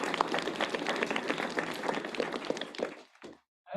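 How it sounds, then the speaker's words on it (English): A lecture audience at the UCI Humanities Center gives a dense round of applause, which thins and stops near the end, followed by a brief silence. "Just a round of applause."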